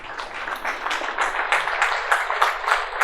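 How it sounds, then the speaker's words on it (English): Conference hall audience at a Linux kernel keynote applauding, a dense, steady patter of many hands clapping, moderately loud and sustained throughout, without voices. "I think we owe them a big hand of applause for the work that they did"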